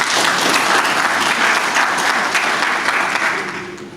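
Loud, sustained applause at the South Carolina State 1973 football team's 50th anniversary banquet, a dense crowd clapping steadily before fading slightly at the end.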